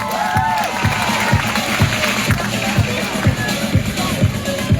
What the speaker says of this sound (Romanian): Aplauze pentru Victor!